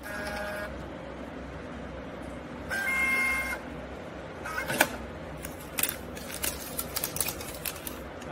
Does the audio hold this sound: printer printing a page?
yes